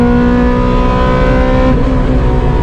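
A loud, high-revving Honda DC5 Integra Type R engine, a K20 with individual throttle bodies, roars continuously at close range, a harsh, buzzing, superbike-like tone that rises slightly toward the end.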